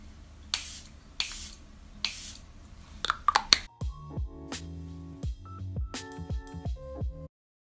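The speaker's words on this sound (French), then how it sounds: "n'oublions surtout pas le spray fixateur." Charlotte Tilbury makeup setting spray released in several short, sharp pumped bursts early on, followed by fainter clicks and handling sounds of products, with no talking.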